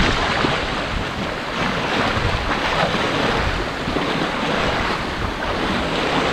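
Steady rushing water and wind wash against a boat crossing the St. Lawrence River near Tadoussac, a constant broad roar with no distinct laps standing out and no voices.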